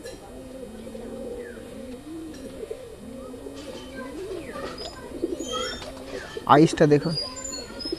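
Green-eyed Madrasi pigeons at Surjapur coo softly in repeated low rolling calls, close by, while someone talks over them and a brief louder call breaks through near the end.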